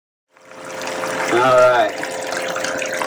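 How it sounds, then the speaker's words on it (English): Reject water discharging from a running Rainman watermaker on a boat, a steady close trickling and gushing flow that starts abruptly and continues at a constant level. "So this here, this is the wastewater, so it's reject from the Watermaker."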